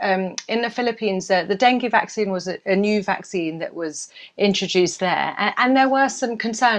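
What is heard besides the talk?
No distinct noise like a dog, phone or traffic.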